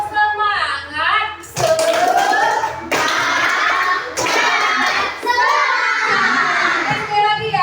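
Children in a classroom clap together in a quick rhythmic pattern, a loud burst of hands that stops and restarts in short runs, with young voices shouting along over the claps.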